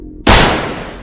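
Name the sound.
rifle gunshot sound effect in scary story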